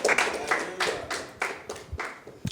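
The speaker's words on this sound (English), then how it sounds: "Please, a round of applause for Dr. Chris." Scattered audience clapping for a speaker, a handful of distinct sharp claps spaced irregularly, fairly close and thinning toward the end rather than a full ovation.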